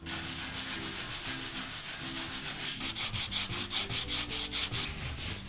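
Wood aboard a Dutch sailboat is sanded by hand, first with a steady rasp and then with quick, rhythmic back-and-forth strokes, close and clear.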